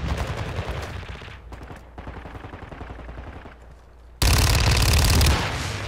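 Fennec submachine gun firing in Call of Duty: Modern Warfare II, a loud, dense stream of rapid automatic shots in sustained bursts, growing even louder and harsher near the end.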